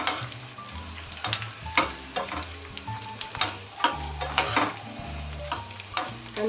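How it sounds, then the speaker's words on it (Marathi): Edible gum (dink) frying in hot oil, a soft continuous bubbling sizzle broken by frequent light knocks and scrapes of a spoon stirring the pan, close and quiet, no voices. "छान असा तळला जात आहे डिंक।"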